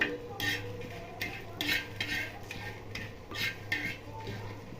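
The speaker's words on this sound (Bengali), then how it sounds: "আর দেবো 2-4টে গোলমরিচ দিয়ে এটাকে ভালো করে ভেজে নেবো" A utensil stirs and scrapes cinnamon, small cardamom and black pepper as they fry in a pan, making repeated metallic clinks and scrapes in an irregular rhythm at close range over a faint sizzle.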